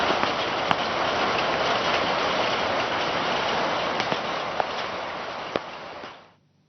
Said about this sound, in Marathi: नागपूरमध्ये मुसळधार पाऊस पडतोय आणि सखल भागामध्ये पाणी साचलंय